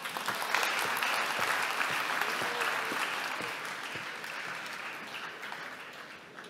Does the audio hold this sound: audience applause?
yes